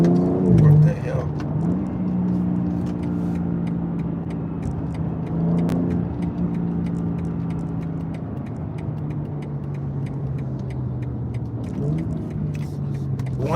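BMW M4 engine heard from inside the car: a steady mid-pitched drone with a few brief rev changes, continuous throughout and fairly loud, with light clicks on top.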